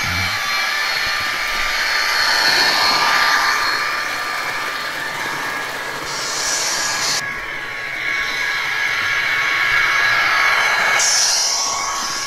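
A Murphy Models Class 071 model diesel locomotive with DCC sound plays a continuous engine drone that rises and shifts in pitch as it speeds up, with a steady whine throughout and no talking.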